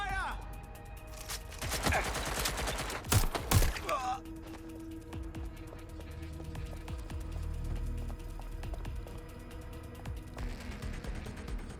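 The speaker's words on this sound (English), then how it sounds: "I'm taking fire!" Bursts of game gunfire from Watch Dogs: Legion crackle through the first four seconds, dense and loud, then settle into a low mechanical hum with steady ambience for the remainder.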